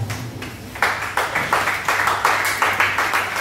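A church congregation breaks into rhythmic clapping, steady and moderately loud, with beats falling roughly every quarter second and a faint voice underneath at first.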